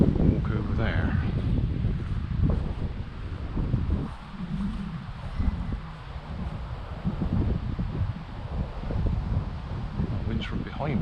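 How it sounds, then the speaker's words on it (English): Gusty outdoor wind buffeting the microphone with a constant low rumble and rustle, at a flying field where a twin-engine model biplane is tested. "The wind's from behind me now, it's sort of swirling around a bit, not so good."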